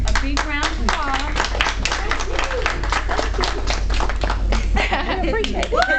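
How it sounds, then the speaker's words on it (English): An audience claps loudly and continuously for several seconds, dense applause close by with voices and whoops mixed in. "I want you to give them a big round of applause"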